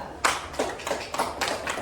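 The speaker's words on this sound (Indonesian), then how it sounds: "tepuk tangan untuk Nabila" Faint clapping in an Indonesian Islamic education classroom, applauding a student named Nabila: a handful of distinct claps in a loose, uneven rhythm.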